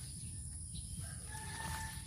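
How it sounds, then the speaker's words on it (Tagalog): A rooster crows nearby among a group of chickens, a single drawn-out call rising over low background noise and faint clucking. "Ayan yung manoka ng kapatid ko."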